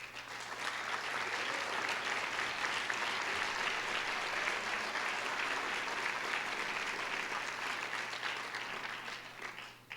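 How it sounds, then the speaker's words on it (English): An audience at a congressional district debate applauds student volunteers with a steady, even wash of many hands clapping, moderately loud and unbroken for the whole stretch, over a faint low hum. "Our student volunteers, let's give them a round of applause."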